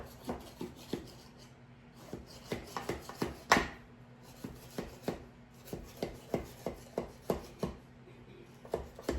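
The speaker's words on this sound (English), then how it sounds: "I would still take my same thin knife and go around the sides of the pan" A thin knife runs around the sides and centre tube of an angel food cake pan, giving a steady series of short scraping strokes at close range, fairly quiet, with no talking.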